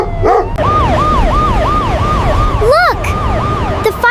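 A loud, close siren wails in a fast repeating up-and-down pattern, with a dog's brief yelps breaking in once or twice.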